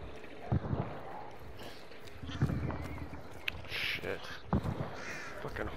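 Crows caw in harsh bursts and a horse shuffles and snorts nearby in the Hunt: Showdown game world, intermittent and moderately loud, with a player talking over them.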